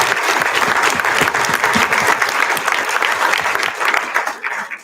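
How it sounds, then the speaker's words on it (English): Audience at a film screening and discussion event breaking into loud, enthusiastic applause, a thick continuous roar of clapping that stays strong throughout before tapering slightly at the close. "So if we give them all a massive round of applause for putting on this event."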